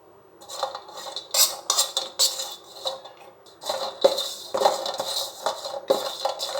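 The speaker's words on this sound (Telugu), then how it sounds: "ఇంకో ప్యాన్లో ఎండు కొబ్బరి ముక్కల్ని లైట్గా ఫ్రై చేయండి చాలు" Dry coconut pieces stirred in a pan while lightly frying, giving repeated close scraping and clinking of a spoon against the metal with loose rattling of the pieces, no voices.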